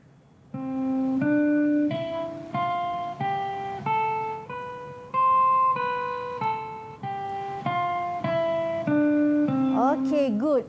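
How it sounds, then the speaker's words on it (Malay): A guitar plays a major scale rising step by step and then falling back down, about fifteen clearly plucked single notes in an even rhythm, close and clean, followed by a short burst of speech at the end. "Macam itu adalah bunyi bagi scale major"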